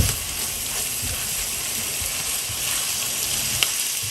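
Onions with cumin powder sautéing in a pan for a Bangladeshi koi fish bhuna, giving a steady, close sizzle that runs unbroken throughout with no voices.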